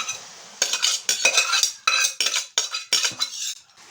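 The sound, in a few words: cooked broad beans tipped into pan with onion and tomato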